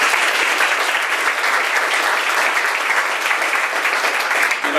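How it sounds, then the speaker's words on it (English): Applause at the opening of the Onondaga Park Firebarn, a dense continuous wash of clapping from an audience that holds steady for several seconds before starting to thin. "let's give him a round of applause as well"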